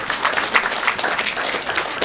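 Audience applause fills a hall during a talk on women's status and global development, a dense, steady patter of many hands clapping close by for about two seconds without a break.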